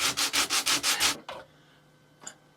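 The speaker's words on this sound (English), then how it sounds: "So these are the 6 stars I've cut, which I then proceed to sandpaper the marks off." Sandpaper rubs across cut wooden Christmas stars in six quick, even back-and-forth strokes, close and fairly loud, followed by a couple of lighter scuffs and quiet.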